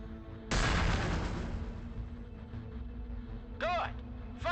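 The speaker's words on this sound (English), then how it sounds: "Now spit out a few grenades" A suit launcher in the video game Cryptark fires grenades with a sudden loud burst and a lingering rumbling roll. Short whooping electronic effects follow near the end.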